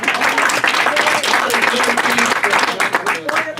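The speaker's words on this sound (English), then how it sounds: "Another round of applause for our panel, please." An audience at a food and water safety rally gives a round of applause for a panel, dense steady clapping filling the whole stretch, close and fairly loud.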